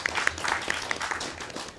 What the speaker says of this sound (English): I think they all deserve a round of applause, especially the division heads and the county manager.